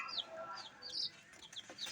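Soft clucks from a brooding hen and chirpy chick calls come in scattered bursts, faint and close, with light background rustling and no talking.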